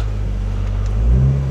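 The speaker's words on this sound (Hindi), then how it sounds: "तो गाड़ी करते हैं स्टार्ट" A motorbike or car engine turns over and settles into a steady low idle, close and loud, with a slight rise near the end.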